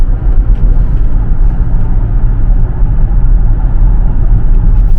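Interior of a 2004 Volvo S80 on the move, a loud, steady low rumble of engine and road noise with a smooth even drone and no talking.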